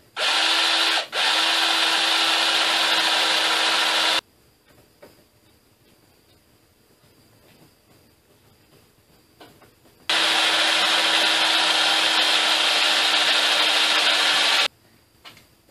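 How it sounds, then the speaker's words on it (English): A power drill bores holes into a bent aluminum bolt holder on a small homemade crossbow, in two loud, steady bursts separated by a quiet pause. "drill a couple holes, and use a couple screws to hold it in place"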